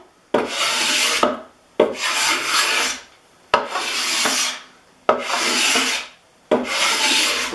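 An old Stanley No. 81 cabinet scraper dragged across a wooden surface in five long, even strokes, each a loud rasping scrape lasting about a second and a half with short quiet gaps between, heard up close and alone.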